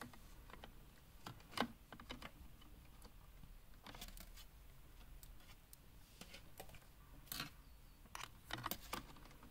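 Knitting needles working yarn for a brioche coaster, a scattered run of small scratchy clicks and taps at an irregular pace, faint and close with no talking.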